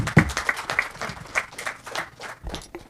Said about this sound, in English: Please welcome Dr. Sri Lakshmi with a round of applause.